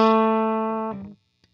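A PRS Special 22 electric guitar on its bridge humbucker, played clean at full power: a single strummed chord rings out loud and sustained for nearly a second, then is choked off, leaving only faint handling noise.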